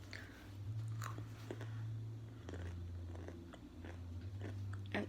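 Crunchy food with small bits in it being bitten and chewed close up, a series of crisp crunches repeating over a steady low hum, with no talking.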